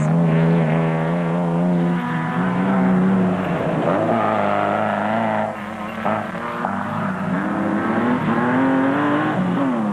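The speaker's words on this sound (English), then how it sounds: "Class E leaders Hugo and Jaap de Bruin in the Castrol Toyota Hilux." Rally vehicles, including a Castrol Toyota Hilux, roar loudly during the 2004 Mafikeng 400 off-road race, their engines revving and shifting pitch as they pass close by.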